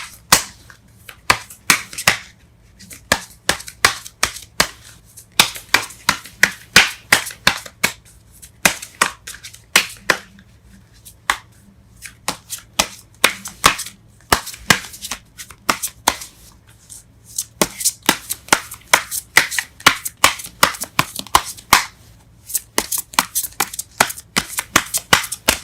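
Tarot cards being shuffled, heard as a long run of quick crisp riffles and taps in uneven bursts, close and clear, with no talking.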